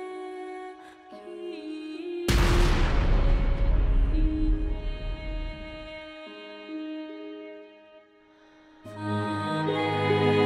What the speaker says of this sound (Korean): 연료를 다 써버린 별은 붕괴한 뒤 태양 10억 개의 밝기로 폭발합니다.